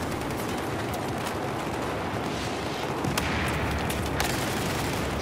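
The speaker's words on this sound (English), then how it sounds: "Stop shooting at me!" Dense, continuous burst of video game gunfire and explosive booms, loud and sustained throughout with sharp shot transients, a chaotic multiplayer firefight heard close.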